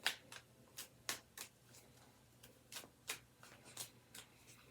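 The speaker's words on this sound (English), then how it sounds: "I'm using the Light Seers deck to draw the first 3 cards." A deck of Light Seers tarot cards being shuffled by hand, with soft, irregular riffles and taps heard close and quiet, and no talk.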